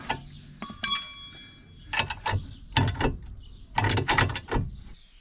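Tight screws on a bicycle saddle holder are forced loose with a tool, giving a few ratcheting clicks and grinding creaks in short close bursts, with a brief metallic ring near the start and no talking.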